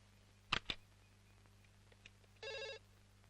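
A landline telephone rings in short, quiet electronic bursts: two quick chirps, then a longer tonal trill, each separated by silence, with no voices.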